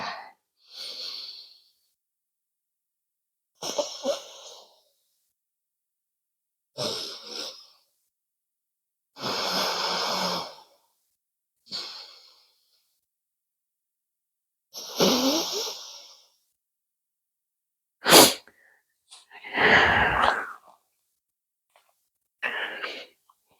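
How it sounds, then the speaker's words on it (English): Yoga alternate nostril breathing (Nadi Shodhana): slow, separate breaths in and out through the nose, each a soft airy rush lasting a second or two, with short quiet pauses between them and no talking. "continue that alternate nostril breathing"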